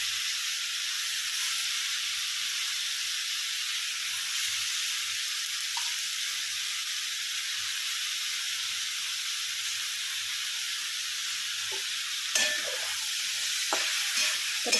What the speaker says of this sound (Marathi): बाकी फ्लावर वगैरे सगळं टाकून घेऊया आता फरसबी सर्व भाज्या टाकून घेऊया त्यामध्ये परतून घेऊया थोडंसं